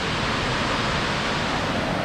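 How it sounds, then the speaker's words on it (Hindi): A waterfall drops from a hilltop behind trees above the city in Kagoshima, Japan, giving a steady, dense roar of falling water that holds constant throughout with no voices. "ये पेड़ के पीछे यहाँ पे से नीचे गिर रहा है झरना"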